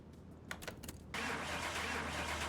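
A turbocharged inline-four car engine in Car Mechanic Simulator 2021 cranks with a few quick starter bursts, then catches and settles into a steady, close idle that continues to the end.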